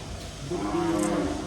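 A single low, drawn-out cow moo rises over a quiet outdoor background, lasting about a second before fading.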